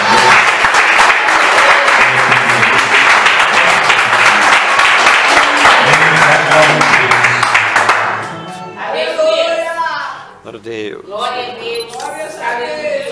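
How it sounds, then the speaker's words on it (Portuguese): A church congregation in Belo Horizonte claps loudly and steadily for about eight seconds, then the applause cuts away and someone speaks alone, with scattered claps under his voice. "Dá uma salva de palmas ao Senhor."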